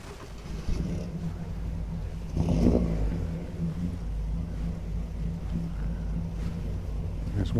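Rally car engines rumble steadily in the background with a louder surge partway through, mixed with wind buffeting the microphone, at Puerto Portals, Mallorca.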